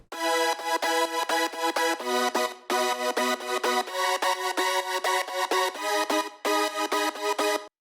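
Third layer of bright synth chords for an emotional progressive house track, struck in short rhythmic stabs with brief gaps between phrases, loud and upfront with no voices.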